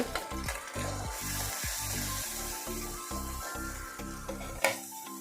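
Salt, chili powder, cumin and coriander powder frying in a pan give a steady close sizzle, overlaid with rhythmic low thumps and harmonic pulses, ending in a sharp clank.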